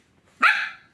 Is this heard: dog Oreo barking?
yes